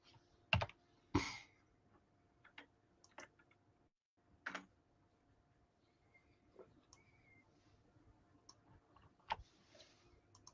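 Clicks from a computer keyboard as a command is typed, scattered irregular taps with a few louder strikes and pauses between them, close and fairly quiet in an otherwise still room.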